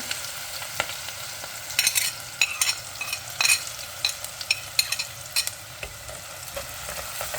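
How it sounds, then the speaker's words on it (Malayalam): Onion, green chili, ginger, garlic and curry leaves sautéing in a pan for a fish curry, with a steady low sizzle broken by repeated scraping stirs at close range and no talking. "ജിഞ്ചർ ഗാർലിക് കറി ലീവ്സ് ഇത്രയായിട്ട് ഞാൻ ഇങ്ങോട്ട് മൂപ്പിക്കുകയാണ്"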